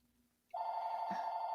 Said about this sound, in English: Tara, why is that phone ringing?